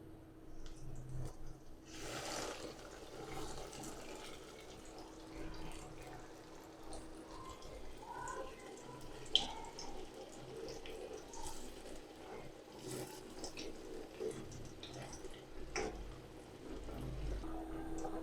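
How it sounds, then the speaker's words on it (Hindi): Bread-crumbed potato donuts fry in hot oil with a faint, steady sizzle and crackle that runs the whole time, with no one talking. "ऑयल हमारा गर्म हो चुका है। अब मैं फ्राई करना शुरू करता हूँ।"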